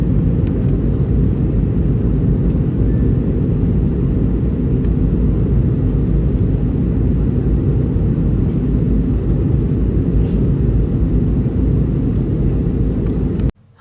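Steady, loud airplane cabin roar during descent on a flight into Bhubaneswar, Odisha, a dense low rumble holding constant throughout before cutting off abruptly at the end.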